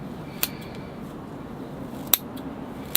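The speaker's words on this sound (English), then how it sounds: "I'll use these curved scissors. They're the best for kind of working on this moss." Curved bonsai scissors trimming moss on a larch forest planting give three crisp, isolated snips, one early and two close together near the end, against quiet background.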